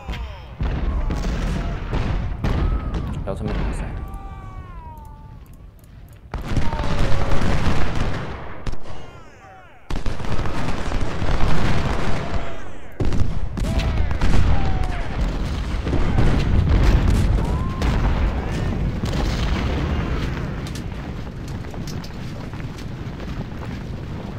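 Cannon booms and musket volleys fill a Battle of Antietam engagement in the Ultimate General: Civil War game. Dense, continuous gunfire runs throughout, swelling and dipping in loudness, with game voices mixed over the battle.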